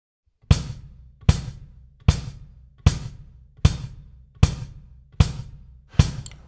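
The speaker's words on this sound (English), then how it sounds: "So I'm going to play quarter notes on my hi-hat and then play quarter notes with my right foot at the same time." Drum kit groove of steady quarter notes, with the hi-hat and right-foot bass drum struck together: eight evenly spaced, punchy hits at a slow, even tempo, close and clear, with no talking.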